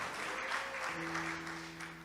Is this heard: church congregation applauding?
yes